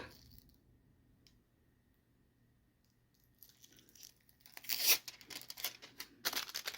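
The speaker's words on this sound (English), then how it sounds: "And of course the transfer tape wants to be difficult." Rhinestone transfer tape peels away in sharp crackling bursts after a quiet stretch, with repeated tearing and crinkling sounds growing louder toward the end.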